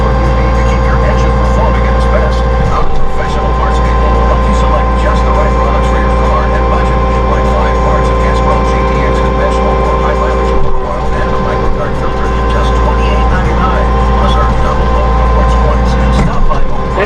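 A Massey Ferguson 1840M compact tractor engine runs loud and steady at raised revs, a continuous close drone with a few brief dips, with no speech heard over it.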